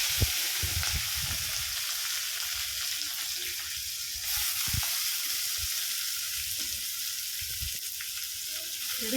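Cumin, cinnamon, cloves and onion fry in a pan, giving a steady crackling sizzle throughout, with occasional low knocks from stirring, close and moderately quiet.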